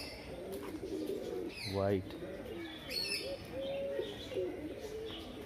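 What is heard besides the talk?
pigeons cooing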